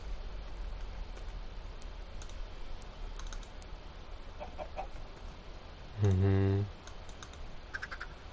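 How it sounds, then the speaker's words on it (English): A Minecraft chicken gives a single short cluck over steady keyboard typing, with faint voice-like sounds earlier. "Hi, chicken."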